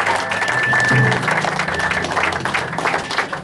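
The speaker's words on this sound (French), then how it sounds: "We applaud for our father." An audience at a church wedding in London applauds together, a steady, dense wash of clapping that holds for several seconds with a few voices mixed in.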